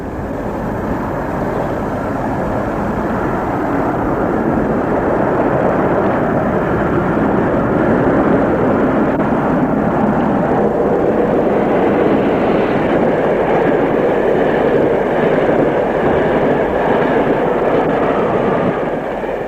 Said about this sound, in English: 45-133 sweeps south at Wellingborough, past an almost deserted yard, with a train from Nottingham